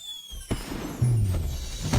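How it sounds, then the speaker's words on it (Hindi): Firecrackers go off nearby in a few separate sharp pops and thuds, with a low rumbling tail between bursts. "कोई पटाखे फोड़ रहा है।"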